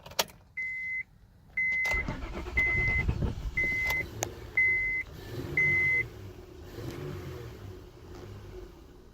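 A 2005 Honda Odyssey engine idles and revs under held throttle, rising and falling in surges, while a chime beeps in a regular repeating pattern over the first half.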